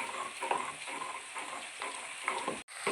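Crushed ginger and garlic sizzle in a pan with softened tomatoes for a Kerala-style beef curry, giving a steady close frying hiss broken by a few soft stirring strokes and no talking.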